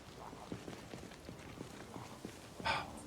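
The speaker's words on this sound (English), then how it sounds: "I also hear a zombie coming up." Soft, slow zombie footsteps in the video game Project Zomboid shuffle along at a steady pace, faint and muffled, ending in a brief rough burst of noise.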